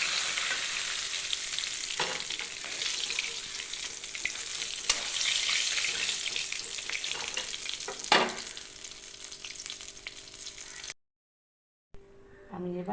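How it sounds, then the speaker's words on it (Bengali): A fish head fries in oil in a kadai with a loud, continuous sizzle and several sharp scrapes of stirring. The sound cuts out briefly near the end, then the sizzle returns more faintly. "এবার আমি প্রথমে মাছের মাথাটা ভেজে নেব।"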